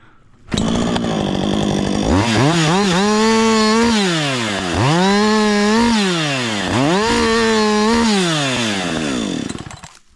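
A chainsaw cuts through wood in loud, close bursts, its engine revving up and dropping back in three long, rising-and-falling strokes. No voices sound over the saw.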